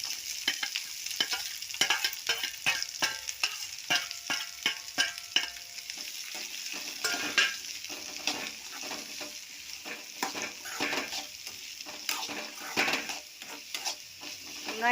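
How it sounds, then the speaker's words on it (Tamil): Onions fry in sesame oil with cumin and curry leaves, sizzling steadily and loudly up close while a spoon scrapes and stirs the pan in a quick, uneven rhythm throughout. "வெங்காயம் நல்லா வணங்கணும்."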